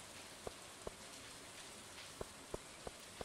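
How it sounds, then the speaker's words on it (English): Soft, steady rain from the Stardew Valley game, a faint broadband hiss with a handful of sharper droplet ticks scattered irregularly throughout, no voices. "The sound of the rain is just so, so nice."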